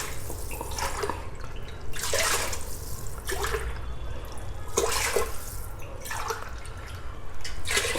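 Water poured into a cooking pot for a one-pot South Indian rasam rice, about five cups added in several bursts of splashing and gurgling, fairly close with a steady low background hum.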